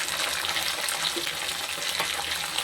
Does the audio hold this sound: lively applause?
no